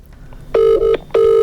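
Two long electronic telephone rings, a steady buzzing tone repeated twice with a short gap, loud and close.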